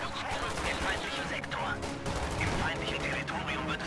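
Gunfire in the World War II strategy game Company of Heroes 2, with rapid machine-gun bursts and scattered rifle shots rattling continuously under a dense battle din, while someone talks over it.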